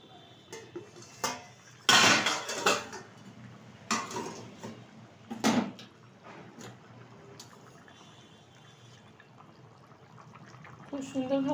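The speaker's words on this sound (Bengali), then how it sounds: "ঢাকনাটা তুলে দিচ্ছি।" A metal lid comes off a cooking pot of bhetki fish curry with potatoes, with several sharp clanks and rattles in the first seconds, then quieter handling, and a voice can be heard faintly at points.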